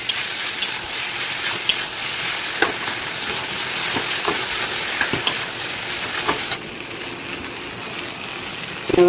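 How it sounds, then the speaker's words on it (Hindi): Rice and vegetables sizzle loudly in a hot pan, with steady frying hiss and repeated scraping clicks of a spatula stirring throughout. "सब्जियों के साथ ही चावल को भी डाल के भून देंगे।"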